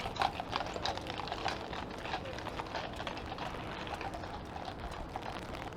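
Several Toronto mounted police horses clip-clop along a wet downtown street in the rain, their hooves making faint, steady clopping under a constant hiss of rain and traffic, heard from a little distance.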